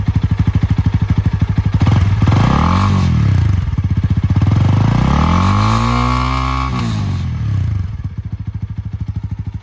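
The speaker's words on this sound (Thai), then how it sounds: "เป็นไงล่ะครับทอเดิมติดรถ โอ้โห ดุดัน ไม่เกรงใจใคร CL 300 Honda" A Honda CL300 scrambler on its stock exhaust idles with a loud, close, lumpy thump, then is revved in several rising and falling sweeps before settling back to a throbbing idle.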